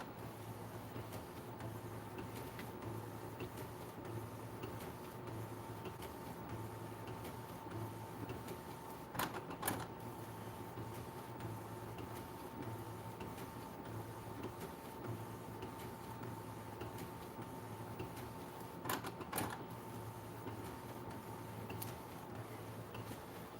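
Epson EcoTank ET-8550 printer running a DTF transfer print job, giving a steady mechanical whir with a faint tone and soft ticking throughout, plus a couple of brief clicks from the moving print head.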